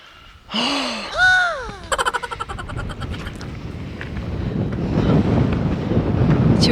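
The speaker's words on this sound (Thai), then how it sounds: "ลมแรง" Strong wind buffets the microphone on a high mountain trail in the Canadian Rockies near Jasper, building into a loud, steady roar after a few bird calls and other sounds at the start.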